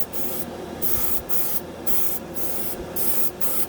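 A Harbor Freight dual action airbrush sprays paint straight from the bottle, driven by an air compressor near 20 psi, giving repeated hissing bursts of roughly half a second separated by brief pauses, close up with no talking.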